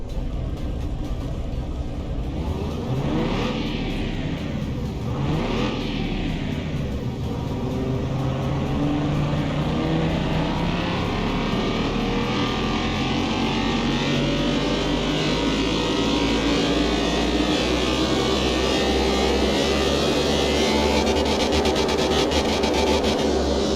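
A car engine held at high revs on a dyno in Car Mechanic Simulator 2021, a continuous loud droning roar with a couple of brief pitch sweeps early on, steady throughout with no talk.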